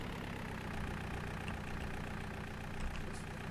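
A tractor engine idles in Farming Simulator 19, a steady, even mid-low rumble that runs unbroken at constant loudness with no voices.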